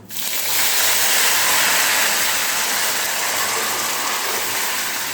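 Dal added to hot oil with tempered spices sizzles loudly, starting with a burst and then holding a steady, close, hissing fry without a break.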